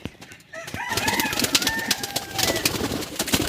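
A pair of Kalshira pigeons coo softly at close range in a short burst of bird calls with a little fluttering.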